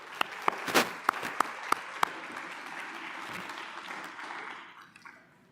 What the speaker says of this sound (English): Can we give all of our sponsors a round of applause?